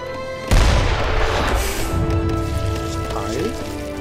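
A heavy boom from mortars shelling a tower in Age of Empires III, one sharp loud impact followed by a long rumbling decay, with game sounds and tones continuing underneath.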